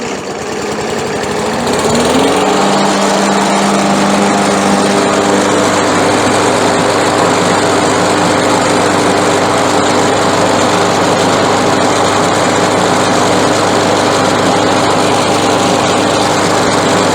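Up close, a free lawn mower's small engine catches after a short crank, then runs loud and steady with an even droning roar and no one speaking.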